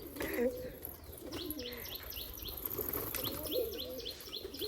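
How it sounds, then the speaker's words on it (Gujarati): Pigeons coo in repeated low rolling calls. Small birds chirp in brief high bursts above them. Everything sits close over a steady background din. "આપણે છે ને ચણ નાખી દઈએ કબૂતરને."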